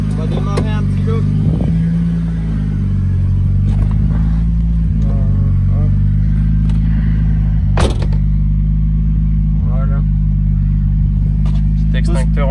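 A turbocharged BMW E36 idles loudly close by with a steady low drone, its engine note rising and falling in a few brief revs, while people talk nearby and occasional clanks cut through.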